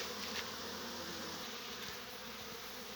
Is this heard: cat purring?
no